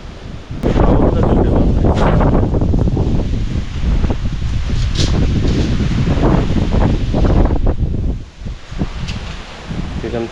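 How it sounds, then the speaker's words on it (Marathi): Strong wind gusts outdoors at a homestay, roaring and buffeting the microphone in a loud, continuous rush that swells and dips, with faint voices partly buried beneath the blustery noise. "हवा बघ किती आली"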